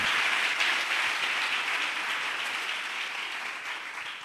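A church congregation applauding together during worship, a dense, steady wash of clapping that holds at an even level throughout and fades only slightly toward the end, with no voices over it.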